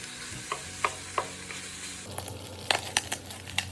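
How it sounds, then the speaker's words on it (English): Sausage browns in rendered bacon fat in a slightly scorched pan, giving a steady close sizzle broken by sharp utensil scrapes and taps, alone with no talking. "We're going to brown the sausage in the rendered bacon fat."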